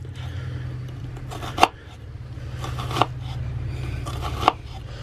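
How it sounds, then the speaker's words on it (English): Three sharp knife chops through an onion on a cutting board, evenly spaced about a second and a half apart, close and clear over a low steady hum. "you take your knife and just take it and go in the centre of the onion and just cut through"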